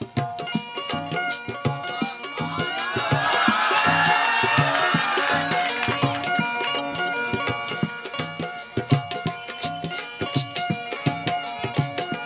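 Crowd at a qawwali muqabla stage contest, cheering and whooping that swells to a broad roar in the middle, with scattered claps and shouts around it, fairly close and loud.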